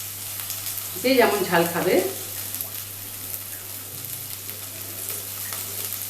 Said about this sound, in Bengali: পেঁয়াজটা আমার হালকা ভাজা ভাজা হয়ে গেছে